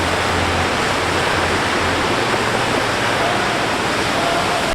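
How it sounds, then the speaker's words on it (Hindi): Nuranang (Jang) waterfall in Arunachal Pradesh, heard from below its base: a loud, steady roar of falling water that holds unbroken throughout. "तो फिलहाल मैं हूँ जांग वाटरफॉल के नीचे, and you can see the view."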